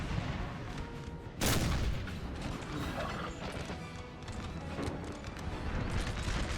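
Artillery volleys from a Napoleonic-era battle in Napoleon: Total War, with a loud boom near 1.4 seconds and more dull rumbling blasts under a steady din of battlefield noise.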